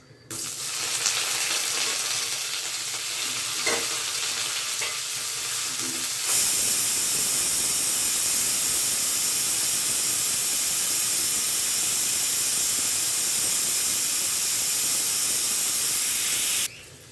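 Large chopped onion and curry leaves fry in hot oil, a loud continuous sizzle and hiss that swells when the ingredients hit the pan and stays steady, close up with no talking.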